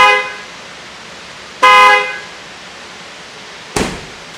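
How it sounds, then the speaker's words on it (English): Factory horn of a 2024 GMC truck sounds in three honks: a short blast, a slightly longer one, then a very brief tap, each close and loud against a quiet background. "That's just the factory horn without the moto horns attached."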